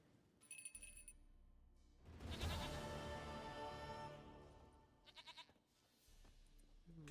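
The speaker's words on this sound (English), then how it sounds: "Goat of mine, dearest, sweetest goat." A goat bleats loudly and close by in the video game The Witcher 3, one long wavering cry set against the game's ambience, with short chiming sounds before and after it.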